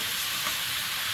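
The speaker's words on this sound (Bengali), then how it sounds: "একটু আলুটা ভালো করে কষিয়ে নিয়েছি" Potatoes sautéing and frying in a pan for a Bengali river-fish curry, giving a steady, close broadband sizzle that holds evenly throughout with no talk over it.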